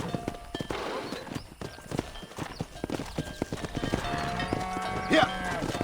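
Horses in the western video game Red Dead Redemption clip-clop along in a busy rhythm of hoofbeats, with one brief whinny near the end and voices talking over them.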